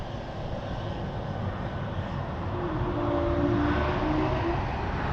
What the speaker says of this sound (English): This is a Helvetic plane coming from Zurich in Switzerland.